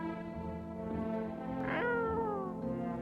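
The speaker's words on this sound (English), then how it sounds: "You reach out and pet the cat." A cat in the video game No, I'm Not a Human lets out one long close meow that rises and then bends downward, loud and clear on its own with no talking over it.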